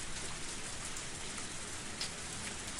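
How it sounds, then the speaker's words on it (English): Steady rain falls in the ambience of a video game, a dense, even hiss of drops on surfaces with no pauses or other sounds. "You want rainy noises instead of fireplace noises"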